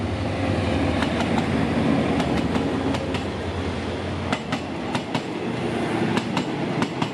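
A train rolls past on a Thai railway, loud and close, with a steady rumble and repeated wheel clicks over rail joints building toward the end.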